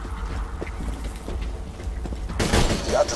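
A sudden burst of rapid gunfire in the co-op shooter Borderlands 2, loud and dense after a stretch of quieter game ambience.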